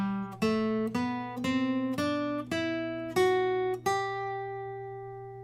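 An electric guitar plays single notes ascending a major scale up the fretboard, eight plucked tones at an even, moderate pace, each ringing briefly over a low sustained drone, clean and quiet with no voices.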